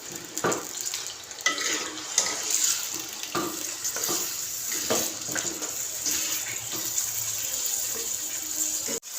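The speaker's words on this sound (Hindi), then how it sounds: "चिकन को हम पहले ऑयल में 5 से 7 मिनट तक फ्राई करेंगे।" Washed chicken frying in oil in a karahi for white chicken karahi, a continuous loud sizzle with repeated scraping stirs of a spatula across the pan, no talking.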